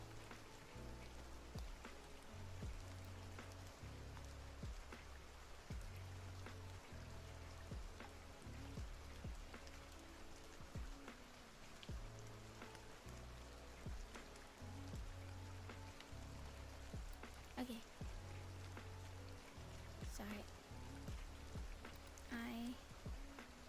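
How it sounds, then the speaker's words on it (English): Steady rain patters and drips on a surface, a soft continuous wash with scattered drop taps, close and fairly quiet, with no talking over it. "can you guys hear the rain sounds well"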